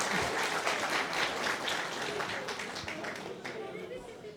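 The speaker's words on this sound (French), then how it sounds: "On les applaudit bien fort." An audience applauds loudly at an opening ceremony, a thick continuous patter of many hands that stays strong throughout, then eases slightly toward the end.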